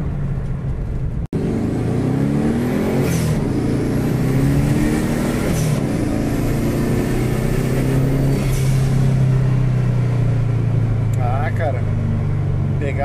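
A turbocharged 1996 Volkswagen Beetle (Fusca Itamar) with a 1.6 engine accelerates steadily, its loud engine droning and climbing under wind and road noise, after a single sharp click near the start.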